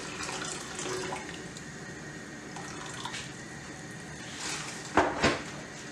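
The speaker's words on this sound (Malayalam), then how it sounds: "ഇനി ഇതിനകത്തോട്ട് വെള്ളം ഒഴിച്ചു കൊടുക്കാം." Water poured from a container into a cooking pan for boiling noodles: a continuous, moderately loud rushing pour, ending with a couple of sharp knocks or clatters near the end.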